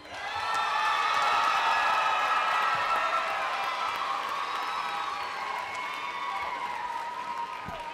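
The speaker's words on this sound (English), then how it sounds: "Let's give a big cheer to the HR students." A convocation crowd cheers and applauds for graduating HR students, with dense clapping and shouts sustained at full strength throughout before easing slightly near the end.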